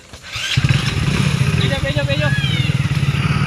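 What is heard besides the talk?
motorcycle engine starting and running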